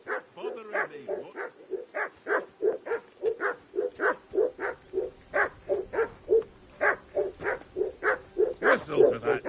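A dog barking in a steady, rapid series of loud close barks, continuing without pause for several seconds with an insistent, regular rhythm.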